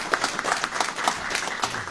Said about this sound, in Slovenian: Da še en aplavz za njega.